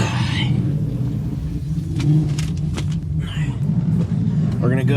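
A sports car revs hard at a cars and coffee meet in a parking lot, with a loud, rough engine rumble surging and holding close by while people talk over it.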